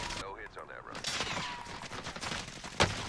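Gunfire crackles in a fast-paced shooter video game, with rapid bursts and a sharp closer shot near the end, mixed with game noise and faint voices.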